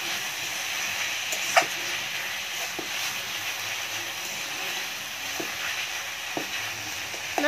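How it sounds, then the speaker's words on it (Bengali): Greens cooking with eggplant and a spoon of sugar in a pan over a clay stove, a steady broad sizzle with occasional soft clicks of stirring, close and constant with no talk. "এবারে বেগুন দিয়ে শাক রান্না করবে"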